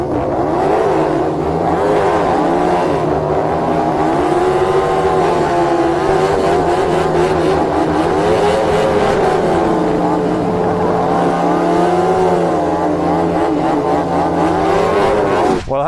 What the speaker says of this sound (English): It'd be great to see some burnouts to end the video.